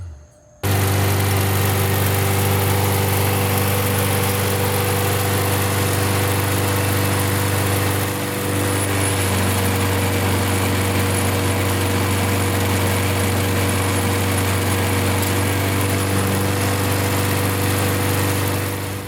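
A freshly tuned-up small engine starts and runs steadily, a loud close buzzing drone with a strong low hum that holds evenly for the whole stretch, briefly dipping once midway.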